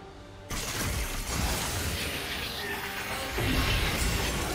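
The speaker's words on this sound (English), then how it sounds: "Red team's turret has been destroyed." A turret being destroyed in League of Legends during a Sylas versus Yasuo mid-lane match: a sudden loud shattering crash followed by sustained dense rumbling debris and game effects, with a second surge of noise near the end.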